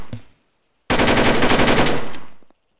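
Sustained automatic burst from a G36 rifle in the ArmA 3 video game, loud and rapid for about a second and a half, with a faint click just before.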